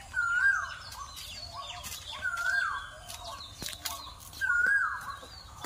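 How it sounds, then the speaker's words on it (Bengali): A koel calls three times at even intervals from a moderate distance near a home in the afternoon, with other faint bird chirps in between. "কোকিল ডাকছে"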